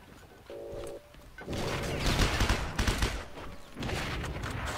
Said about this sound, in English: Sounds like a shotgun.